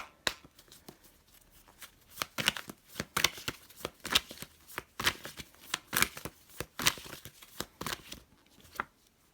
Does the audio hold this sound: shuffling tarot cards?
yes